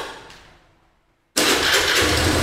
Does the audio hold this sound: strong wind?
no